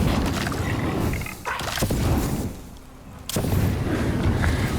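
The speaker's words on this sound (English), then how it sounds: "Let's get the flamethrower." A flamethrower fires in the video game Icarus, giving loud roaring whooshes in bursts with a brief lull partway through and no speech.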